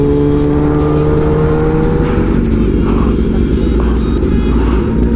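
A big-displacement motorcycle with an oversized exhaust on a night road among a group of large bikes: a constant, very loud, close engine roar with no break.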